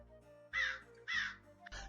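Crow cawing as a story sound effect: two loud, harsh caws close together, with a third starting just after.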